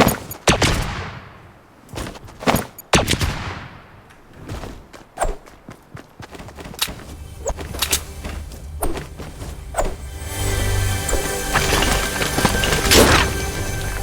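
Assault rifle gunfire in Fortnite, the original AR, heard as several sharp bursts of shots spread across the scene, some close and loud, mixed with footsteps and thumps over a rising background din.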